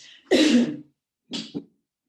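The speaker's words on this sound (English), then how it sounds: "I have to cough and drink." One harsh cough close by, followed after a pause by a smaller double cough, with quiet in between.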